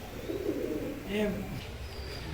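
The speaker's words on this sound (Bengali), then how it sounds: "এক পেয়ার কবুতর দেখেন ওমান টেডি" A pair of Oman teddy pigeons coo softly at close range, the low, rounded calls rising briefly in the middle over a steady background hum.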